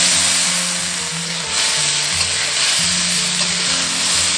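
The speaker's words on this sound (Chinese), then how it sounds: "锅中倒少许食用油，加入鱼皮炒香" Fish skin stir-fried in oil in a wok, loud continuous sizzling and crackling with shuffling stirring noises and a low hum underneath, close and unbroken.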